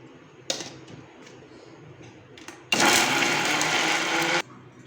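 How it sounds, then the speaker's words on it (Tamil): A mixer grinder whirs loudly for about two seconds as it grinds coconut, starting and stopping abruptly, with a few short clicks and handling knocks before it. "தேங்காய் அரைக்கிறாங்க இப்போ பாருங்க"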